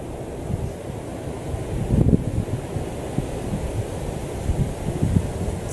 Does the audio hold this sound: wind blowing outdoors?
yes